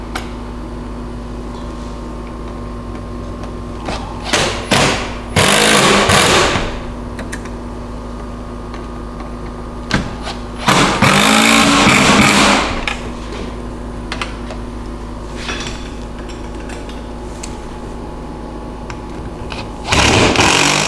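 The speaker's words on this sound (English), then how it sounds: "Now we'll take our P3 bit and our impact wrench and a 7/16 end wrench," Impact wrench with a P3 bit tightening hardware on a Can-Am Defender cab rear panel, in several loud, short bursts separated by pauses, set against a steady background hum.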